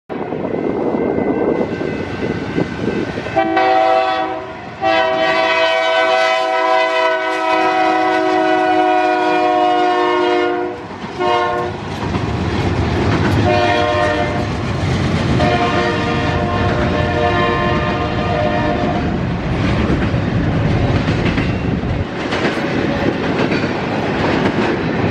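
A BNSF freight train rolls close by with a loud, sustained rumble, its horn sounding in several long, strong blasts, one stretching across several seconds, before the rail noise carries on steadily.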